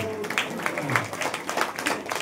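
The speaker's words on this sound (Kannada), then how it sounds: "ಜೋರಾದ ಚಪ್ಪಾಳೆಯನ್ನ ತಟ್ಟಿ" An audience at a village devotional gathering, a Devi Purana recital, claps loudly and continuously, with many hands patting in a dense patter and voices mixed in.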